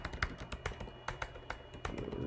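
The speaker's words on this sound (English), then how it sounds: "Now if I start typing here" Typing on a computer keyboard while working in Word 365, a quick irregular run of light close key taps over about two seconds, with no talking.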